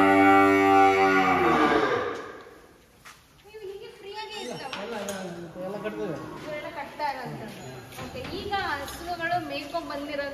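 Cattle at a cowshed beside the main gate of a goshala housing Malnad Gidda cows, one long loud nearby moo opening, then people talking over the shed's background.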